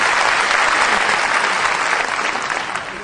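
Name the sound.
audience applause at a comedy poetry show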